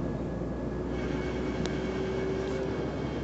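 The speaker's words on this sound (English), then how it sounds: "See there? I'm filming the train." Chiltern Railways class 168 diesel unit at Oxford station, heard from onboard as a steady low rumble and hum with a faint tonal whine, continuous and moderately loud throughout.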